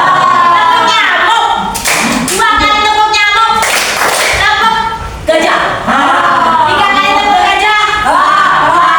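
Children clap together in a chanted clapping game, sharp bursts of hand claps landing in groups between stretches of loud sing-song voices.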